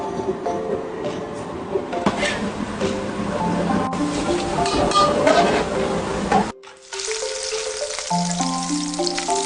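Homemade soy sauce for steaming fish is boiling in a pot in a Macau restaurant kitchen. It gives a loud, steady bubbling and sizzling wash over kitchen clatter, then cuts out briefly near the end before a tonal hum returns.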